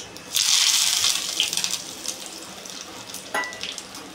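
Cumin seeds and curry leaves hitting hot oil for a tadka, giving a loud bright sizzle that flares up at once, then settles into a softer crackle with a second brief burst later.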